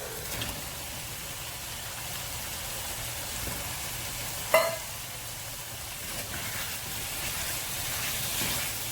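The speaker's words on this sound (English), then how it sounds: "in goes the lean pork" Lean pork sizzles in a pan with bagoong, onions and chilli for Bicol Express, a steady close frying hiss with stirring scrapes and one sharp clatter midway.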